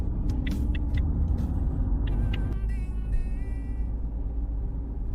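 Car driving along with a steady low road rumble and engine drone, overlaid with brief clicks and a faint high whine, fairly loud throughout without talk.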